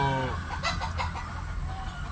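Nearby Gilmore bloodline gamefowl chickens give short clucks and a brief crow-like call, fairly loud, with soft farmyard noise underneath.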